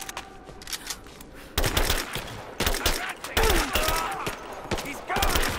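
Repeated gunfire bursts in Rise of the Tomb Raider during a firefight in the mines, loud cracks and rattling volleys arriving in clusters over a dense background.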